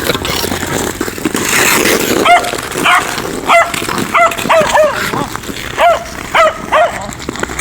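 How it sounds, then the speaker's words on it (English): A puppy on an ice-coated snowy backyard lets out a run of high, sharp yelps and whimpers, close and loud, in short bursts over several seconds. "I think you hit a puppy."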